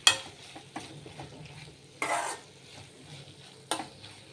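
Spoon stirring brinjal and broad bean curry with a little oil in a pan, three soft scraping bursts spaced apart over a quiet background hiss, close and moderate in volume.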